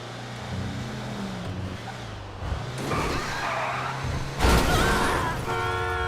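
Nissan Skyline driving in GTA 5, engine drone steady under broadband tire and road noise, with skidding squeal bursts building toward a louder surge near the end.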